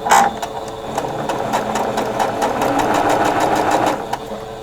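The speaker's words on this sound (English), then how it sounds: "let's go to the machine and sew these" A sewing machine stitches a quarter-inch seam along half-square triangle quilt units, running in one steady, close, rapid whirring burst with a fast mechanical stitch rhythm and no voices.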